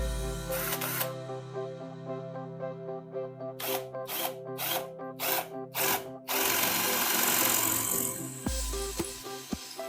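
A 48V cordless drill, not a hammer drill, whines in repeated bursts as its masonry bit bores into masonry, spinning up and stopping several times, then a longer sustained drilling run, loud and close.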